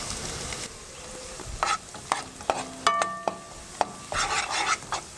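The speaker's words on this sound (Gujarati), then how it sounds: "તેલ ગરમ થાય એટલે પહેલાં સુધારેલી લીલી ડુંગળી ઉમેરશું" Chopped green onion hits two tablespoons of hot oil in a pan over a high flame, a bright sizzling hiss punctuated by sharp spatula knocks and scrapes against the metal.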